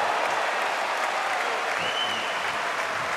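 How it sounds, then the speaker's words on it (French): Steady, dense applause from an audience at a pelota final, the Gant d'Or in Biarritz, filling the whole moment as a continuous wash of clapping with no voices standing out. "Et même Philippe Etcheberry est en train d'applaudir le spectacle offert par les 4 joueurs."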